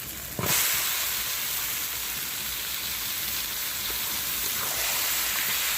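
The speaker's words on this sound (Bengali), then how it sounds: "এবার আমি ধুয়ে রাখা মাংসটা দিয়ে দেবো।" Washed chicken meat dropped into hot oil for a potato chicken curry, starting with a sharp burst then settling into a steady, loud, continuous sizzle that fills the clip with no talking.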